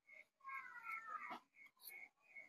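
A cat meows a few times in quick succession, soft and fairly close, with short pauses between the cries.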